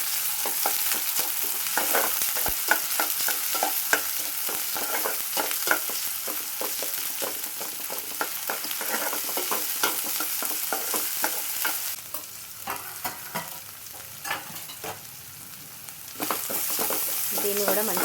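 Potato kurma frying with a spoonful of ginger garlic paste, stirred steadily in a pan: a continuous close sizzle with repeated spoon scrapes that eases briefly before picking up again.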